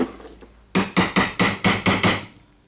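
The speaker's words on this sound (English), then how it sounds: "so now I need to try to get the armature installed back. I will try to just punch it" Seven sharp, evenly spaced hammer blows ring out close and loud as a punch drives the armature back into a Milwaukee M18 FIW2F12 compact impact wrench during repair, each strike metallic with a short decay.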